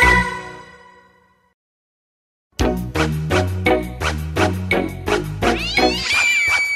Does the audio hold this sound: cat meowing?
yes